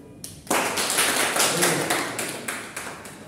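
A classroom group gives a round of applause, loud and close, with dense sustained clapping that pulses slightly before tapering off.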